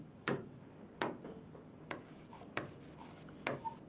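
Writing during a physics lesson on vectors, with a handful of distinct sharp taps and scratches of the writing tool at an irregular pace, close and fairly quiet.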